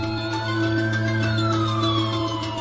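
A phone ringtone imitating a police siren wails in a smooth rising then slowly falling sweep, loud and continuous over a steady low hum.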